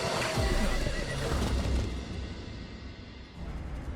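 A horse whinnies loudly amid a dense, noisy Phantom Blade Zero game trailer soundscape with thuds and crashes, the neigh standing out near the start.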